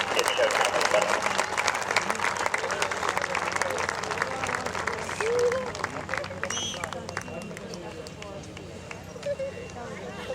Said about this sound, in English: Oshkosh, please give a warm round of applause to Staff Sergeant Cardo